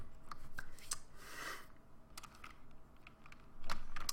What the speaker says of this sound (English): I can't really type well at the moment.